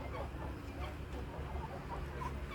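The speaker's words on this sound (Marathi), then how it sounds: "आपल्याकडे कडकनाथ आहे, टर्की आहे, गिनी फॉल आहे, सर्व पक्षी आहेत." Country chickens cluck continuously at a busy poultry shop that also keeps Kadaknath birds, turkeys and guinea fowl. Overlapping clucks and short calls sound close and fairly loud over a steady background din.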